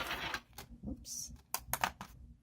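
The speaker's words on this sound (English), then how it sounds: "That was just the X-Acto knife rolling across the table." An X-Acto hobby knife rolls across a tabletop during papercraft card making, giving a close, irregular run of light clicks and taps against a quiet room.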